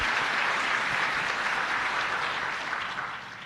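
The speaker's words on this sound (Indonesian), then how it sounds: "Tepuk tangan dulu untuk para alumni Unika Atmajaya." Audience applause at the 2025 doctors' oath ceremony of Unika Atmajaya in Jakarta: dense, sustained clapping from a large crowd filling the hall, steady throughout and tapering slightly at the end.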